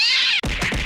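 A cat villager in Animal Crossing lets out a loud, drawn-out high meow, followed by a short rougher cry with a quick thump, close and alone.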